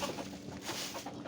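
Farm poultry such as chickens and other fowl clucking in a short close burst, with busy overlapping bird calls and no talk.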